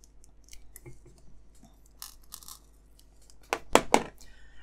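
A blade slices and tears open plastic packets of small MD06 screws for a 1967 Shelby Mustang Super Snake scale model, with faint rustling early and a sharp, close burst of tearing near the end.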